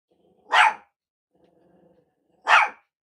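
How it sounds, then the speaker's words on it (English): A dog gives two sharp, close barks about two seconds apart, separated by a faint low growl in an otherwise quiet room. "My dog's saying something."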